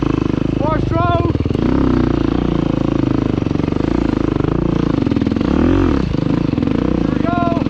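A 4-stroke dirt bike engine revs hard on a hard enduro trail near Guanajuato, a close, constant throbbing roar that rises and falls with throttle, while a rider shouts and talks over it.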